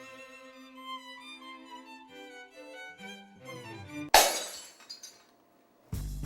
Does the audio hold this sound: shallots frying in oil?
no